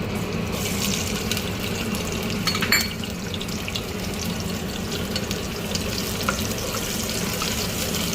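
Onions fry in ghee for mutton biryani, giving a loud, continuous crackling sizzle close by with a few faint clinks of a utensil and no talk.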